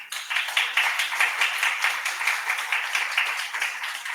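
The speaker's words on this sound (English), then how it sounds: "Can we give Sam a round of applause?" Audience at a conference session on combination prevention for key populations applauds a speaker, a brisk, moderately loud round of clapping that stays steady throughout.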